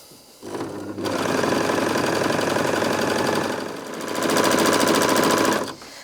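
A Bernette b64 Airlock overlocker stitches fabric in two loud, steady mechanical runs with a short slowdown between them, close by and with no voices.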